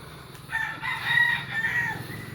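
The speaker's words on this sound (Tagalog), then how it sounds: "naririnig natin dito tilaok ng manok" A rooster crows once at moderate distance in a residential neighbourhood during an afternoon walk, a drawn-out rising-and-falling call over quiet outdoor background.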